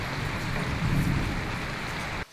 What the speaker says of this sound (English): definitely raining hard though.